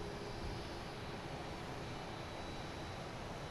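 UPS cargo plane on final approach at Boston Logan airport, a faint, steady distant engine roar with a broad hiss, continuous and unchanging throughout.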